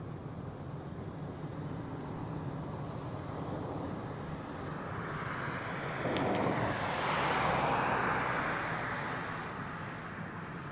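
A jet departing Barcelona El Prat airport rises out of steady wind-blown outdoor noise, its broad roar swelling over several seconds before easing back while still loud.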